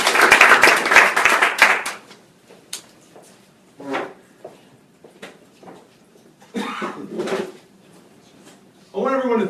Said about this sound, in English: So can we just give him a round of applause?